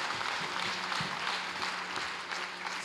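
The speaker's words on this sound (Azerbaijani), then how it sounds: "Cabir Novruz, Oktay Kazımova bir gözəl alqışlar deyək" Steady applause from an audience at a 90th jubilee celebration honoring Cabir Novruz, a broad even wash of many hands clapping at moderate distance, faint and sustained with a few sharper claps standing out.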